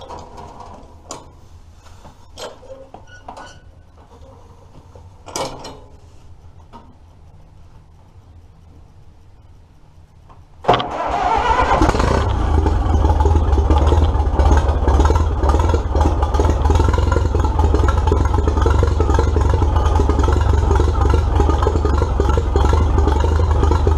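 A motorcycle engine cranked and fired up cold after some quiet garage clicks and shuffling, catching abruptly and then settling into a loud, steady, close idle rumble.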